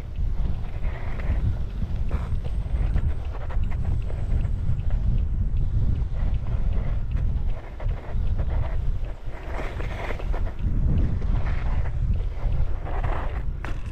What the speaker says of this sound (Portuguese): olha o vento que tá.